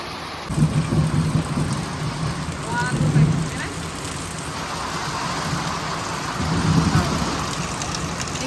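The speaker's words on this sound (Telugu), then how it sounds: "పిచ్చాన పిచ్చ వాన పడుతుంది" Heavy rain pours down in a steady, dense roar that never lets up, with low rumbling swells underneath and a voice talking over the downpour.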